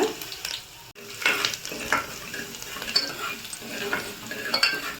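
Mustard seeds, cumin and asafoetida sizzling in hot oil with chopped aromatics, a steady close crackle broken by spoon scrapes and stirring clatter, moderately loud and with no one talking.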